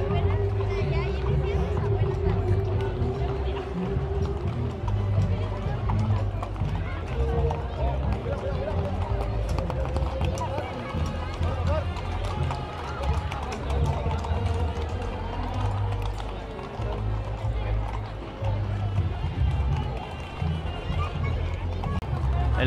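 A large cavalcade of more than 3000 horses moves through a crowded place in Mexico, a dense rumble of hooves under steady crowd babble and nearby talk throughout.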